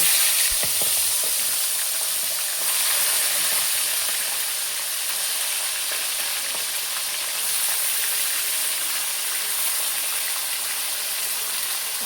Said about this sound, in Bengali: মাংসটা ভাজা রান্না করবো